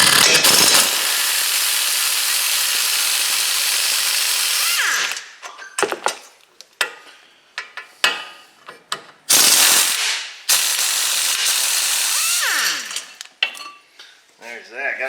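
Brake caliper bracket bolts come off a Chevrolet Sonic: a long stretch of continuous power-tool whirring, then scattered metallic clanks, ratchet clicks and short bursts of tool spin, close up with no speech.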